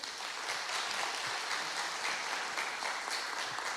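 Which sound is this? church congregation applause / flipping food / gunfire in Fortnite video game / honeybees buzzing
church congregation applause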